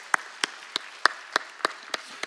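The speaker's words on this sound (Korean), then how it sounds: "우리 하나님께 영광과 감사의 박수를 올려드립니다" A church congregation claps in steady unison, with sharp, evenly spaced claps about three per second at moderate loudness and no talking.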